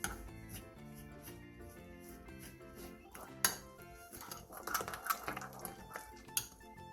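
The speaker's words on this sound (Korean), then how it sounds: "물엿 3분의 2컵을 넣고 골고루 섞어주세요" Tteokbokki sauce ingredients, including sugar, salt, pepper, soju and corn syrup, are stirred in a bowl, with quiet rhythmic scraping and clinks of utensil against dish under soft background music.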